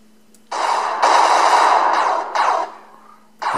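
Bursts of gunfire from the space game Space Nerds in Space, in loud sustained volleys with brief gaps between them and a steady low electronic hum underneath.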